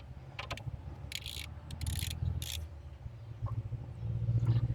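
Socket wrench ratcheting while tightening truck brake parts in a DIY repair: short bursts of clicking come in several spurts over a low steady hum, close and moderately loud, with no talk.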